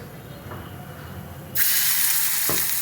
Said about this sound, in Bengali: ভেন্ডিগুলো এই ব্যাটারটার মধ্যে চুবিয়ে আমি এখন এই কড়াইতে দিয়ে দেবো